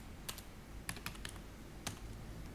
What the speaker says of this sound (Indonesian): ditekan tombol shift, jangan dilepas, sama F3